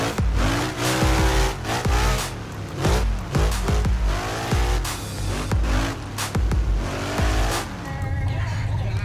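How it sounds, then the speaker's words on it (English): Car engine revving hard and continuously in Assetto Corsa with the handbrake held, the drift car's motor droning loud and near with rising and falling pitch sweeps, blips and brief tire squeal. "if I push the handbrake in and push this, she'll rev up"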